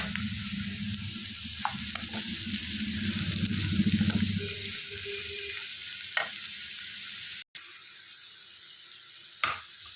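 Sabudana khichdi with potatoes and peanut powder being stirred in a pan, with a steady sizzle and soft scraping at first, then fading to a quieter hiss broken by a few sharp clinks of the spoon.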